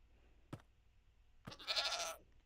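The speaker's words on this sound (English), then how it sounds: "we have a goat." A goat in the Minecraft 1.18.2 video game bleats twice in quick succession: a short call, then a longer, louder one, heard up close with no one talking.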